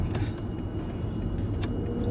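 BMW iX xDrive40 electric SUV accelerating hard in sport mode, a steady low road and motor rumble filling the cabin at constant level, with faint brief ticks above it.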